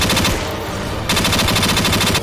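SPAS-12 shotgun fire in Garry's Mod, a rapid string of loud, close blasts packed tightly together in a continuous burst with a brief dip midway, no talking over it.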